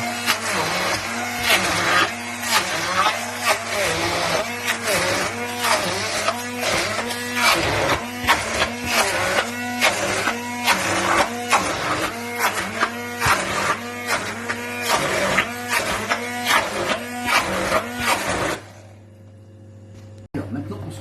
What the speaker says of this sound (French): on va mixer.